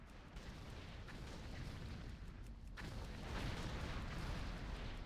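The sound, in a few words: ship cannon fire in video game World of Warcraft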